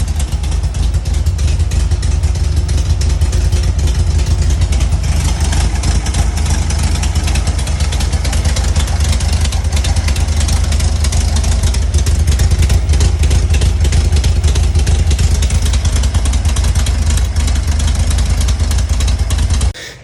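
Loud, steady idle from a car engine running Holley EFI with a custom-fabricated intake manifold, a deep continuous rumble held for the full length with no voices.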